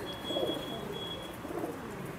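Batera breed pigeon cooing at close range, a soft low throaty coo in two swells over steady background noise, with no voices.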